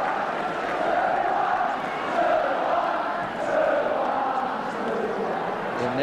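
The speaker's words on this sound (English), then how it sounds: "The inevitable cry from the crowd of 2-1" Football crowd at a 1978 Arsenal v Ipswich match, a steady, massed roar with a swelling chant rising and falling across the stands, distant and continuous.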